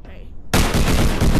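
Gunfire erupts in a Roblox VR war game after a quiet moment: a sudden, loud, continuous burst of rapid shots that stays dense and close until the end.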